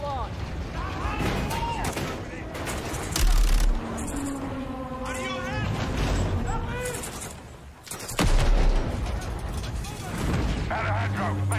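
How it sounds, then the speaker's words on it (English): A video game trailer gunfight brings loud bursts of gunfire and heavy explosive blasts, with shouted voices and dialogue running through the battle. "Let's have ourselves a gunfight!"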